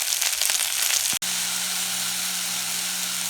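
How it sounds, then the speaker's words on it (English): Almond milk poured onto caramelized fruit and raisins in a hot pan: a loud, dense sizzle first, then a brief gap, then a steady hiss with a low hum underneath. "I'll add my almond milk."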